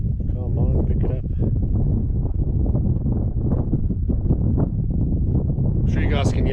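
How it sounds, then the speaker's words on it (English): Gusty wind buffets the microphone outdoors at Boschkop on the Vaal Dam during a fishing session, a constant low rumble that runs under nearly continuous nearby talk. "I'm sure you guys can hear, but the wind's picked up a little bit as well"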